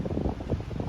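Wind gusting across a hill prairie at Fults Hill Prairie in Illinois, a steady, close rumbling buffet with low-pitched rushing and brief swells, like wind battering the microphone.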